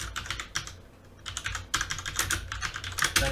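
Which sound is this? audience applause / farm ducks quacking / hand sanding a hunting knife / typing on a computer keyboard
typing on a computer keyboard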